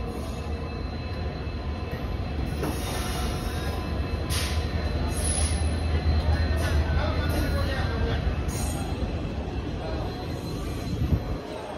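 A long train rolls past in Mariani town in a continuous rumble and clatter of wheels, with faint metallic squeals riding on top throughout.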